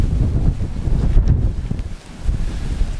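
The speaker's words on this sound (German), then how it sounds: "Es ist ziemlich windig, viel zu viel Wind einfach." Strong wind in a mountain snowstorm, a steady roaring buffet battering the microphone with low rumbling gusts that swell and ease, no voices present.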